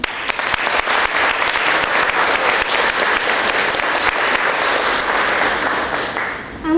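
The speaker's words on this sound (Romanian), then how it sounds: "vă încuraja cu niște ropote de aplauze." Dense applause from an audience at a children's poetry performance fills the whole stretch, steady and loud with many hands clapping at once and no pause.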